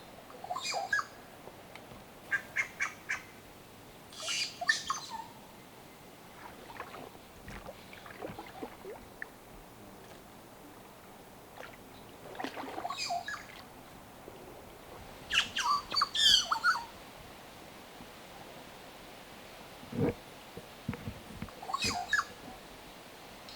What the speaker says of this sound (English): determined that it was a yellow-rumped cacique